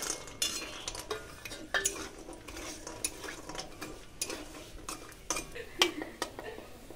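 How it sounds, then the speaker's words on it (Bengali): Dal bori lentil dumplings frying in oil in a pan, with a soft, quiet sizzle under frequent clinks and scrapes of a spatula against the metal, heard up close and without speech. "ডালের বড়ি কটা ভেজে নিচ্ছি।"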